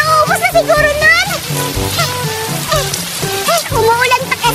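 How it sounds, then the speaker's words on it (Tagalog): Steady rain falls outdoors as a constant hiss beneath several people talking loudly and animatedly nearby, with the voices dominating over the wash of rain. "Umuulan pa kasi."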